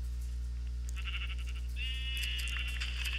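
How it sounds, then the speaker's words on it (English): Sheep bleating in a video game, a few wavering bleats sounding close over a steady low hum, with no talk. "You can hear my sheep."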